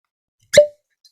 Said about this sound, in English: All right, here we go. Cork pop.